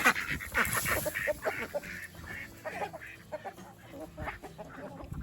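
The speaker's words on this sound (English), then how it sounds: "I love my chickens." Backyard chickens and ducks cluck, quack and honk close by in a busy, uneven chorus of overlapping calls, loudest at the start and continuing throughout.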